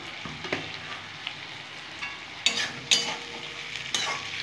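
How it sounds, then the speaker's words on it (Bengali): Cumin and green-red chilli paste masala fries in a pan for a small fish curry, a low steady sizzle punctuated by several sharp scraping stirs, close and alone without talk. "খুব সুন্দর করে আমি এখন মশলাটা কষে নেবো।"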